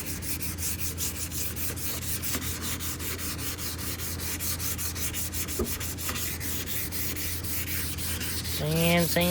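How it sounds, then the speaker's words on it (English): Wood is sanded with a steady rasping scrape, a repetitive rubbing stroke continuing close by in a garage for the whole stretch, rising slightly near the end with a brief squeal. "Sand."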